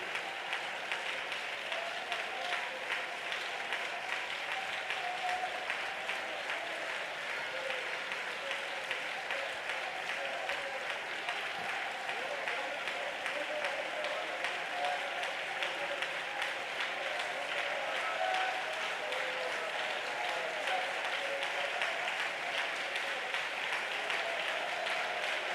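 A church congregation at a Sunday worship service claps continuously, a dense, even wash of applause that holds at moderate level without pause.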